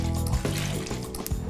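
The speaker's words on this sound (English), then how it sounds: "Lovely, so pour this in." Custard mixture of egg yolks, sugar and lemongrass-infused cream being poured for a raspberry trifle, a brief continuous liquid pour with faint kitchen clatter.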